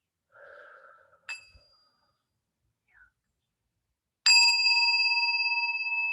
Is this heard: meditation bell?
yes